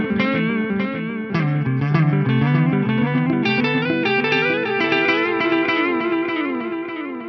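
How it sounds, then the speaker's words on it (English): A guitar runs through a delay effect at full echo mix on a Fractal FM3, distorted notes and chords with repeats trailing behind each one, continuous and upfront with no voice. "I've just got a delay on there."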